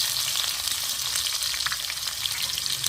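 Chopped onion dropped into hot oil with whole cumin seeds fries with a steady, dense sizzle and crackle, close and fairly loud, with a few stirring scrapes and no talking.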